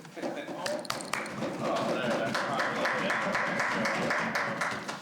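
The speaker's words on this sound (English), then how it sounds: "I'd like to give him a round of applause" A legislative chamber applauds a long-serving member honoured as Dean of the Legislature, scattered claps at first building into sustained, moderately distant applause, with voices murmuring underneath.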